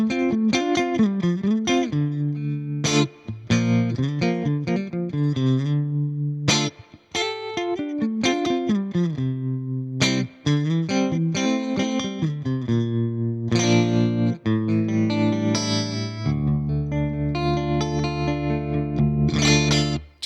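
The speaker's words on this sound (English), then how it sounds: "Effects 1 is set as a tremolo, and Effects 2 is set as a spring reverb." An electric guitar through a Hotone Pulze practice amp plays a melodic line with a pulsing tremolo and a splashy spring reverb tail, clean and sustained, ending on a held low chord.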